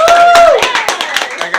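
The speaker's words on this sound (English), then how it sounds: "Give him another round of applause." A studio audience gives a loud round of applause, with close, distinct rhythmic claps. A sustained vocal cheer rides over the start before the clapping carries on alone.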